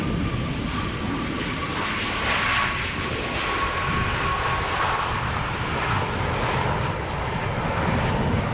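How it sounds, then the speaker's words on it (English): A Boeing 747 approaching Schiphol Airport gives a steady, broad engine roar that stays loud and constant from start to finish, with no voices over it. "747 approaching in the background, as you guys can see."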